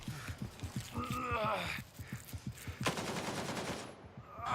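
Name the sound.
gunfire in video game Gray Zone Warfare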